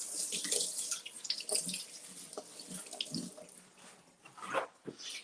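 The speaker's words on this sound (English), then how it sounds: "Let me just rinse this off." Something is rinsed under a running kitchen tap, with water splashing unevenly into a sink and a few louder splashes as the food moves through the stream, fairly close and with no talking.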